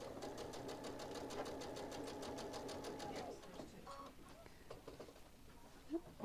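A sewing machine stitches fabric in a steady, fast mechanical chatter for about three seconds, then stops; a few short stitches and light handling noises follow, with someone talking faintly in the background.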